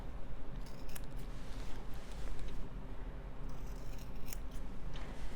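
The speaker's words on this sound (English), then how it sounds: "I'm going to take my scissors and I'm just going to trim really close to that, trim those corners off" Scissors trimming the fabric corners of a pillowcase, a series of close, crisp snipping cuts in quick irregular succession with no talk.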